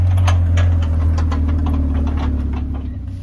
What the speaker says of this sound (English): Got the proper hay vehicle coming along now.